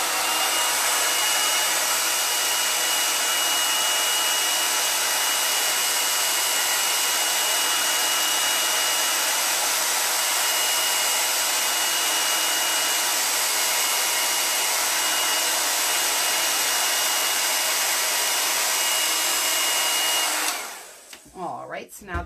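A handheld heat tool or dryer blows steadily and loudly to dry chalk couture paste on an Easter craft piece, a continuous whooshing roar that runs unbroken for about twenty seconds before cutting off abruptly.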